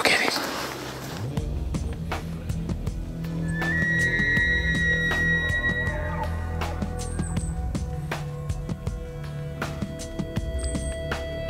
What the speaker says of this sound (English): The Fox Pro's sweet cow calls were more than this bull could handle.